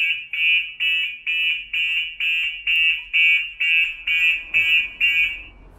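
A HORNET car security alarm from Kato Denki, armed on a parked car, sounds a loud, steady run of about a dozen evenly spaced electronic warbling tones close by, with no talk over it.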